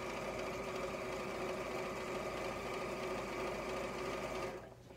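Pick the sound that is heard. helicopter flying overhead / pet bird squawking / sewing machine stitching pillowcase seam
sewing machine stitching pillowcase seam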